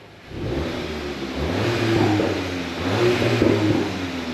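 Volkswagen Golf 8 GTI Clubsport 300 hp engine running at standstill in sport mode, a steady low exhaust rumble with a couple of light rises in revs, close and moderately loud, no voices.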